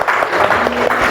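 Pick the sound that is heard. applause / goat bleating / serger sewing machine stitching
applause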